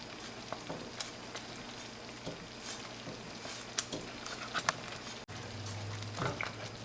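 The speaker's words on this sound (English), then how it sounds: "we have stirred this at a full rolling boil for 1 minute" Blackberry jam at a full rolling boil in a pot, a low, steady bubbling and spattering with scattered pops and stirring, fairly quiet and close, with a brief dropout near the end.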